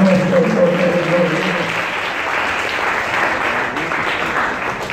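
A church congregation applauds together, a dense, loud, sustained wash of clapping from many hands, with a voice briefly audible at the start before the clapping carries on alone.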